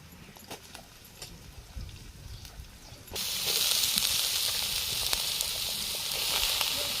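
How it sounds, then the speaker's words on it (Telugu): Bottle gourd pieces drop into a hot pan of oil with green chilies, bringing a sudden loud, steady sizzle after a few seconds of quieter clinking and stirring. "ఇప్పుడైతే సొరకాయ ముక్కలు వేసుకుందాం"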